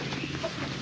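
Chickens cluck briefly inside a coop, a couple of soft, close clucks against a low background hum.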